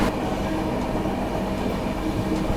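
A Howrah–Patna Vande Bharat express running past as a steady, loud, broadband rumble with faint rail clatter, heard continuously for a few seconds with no voices.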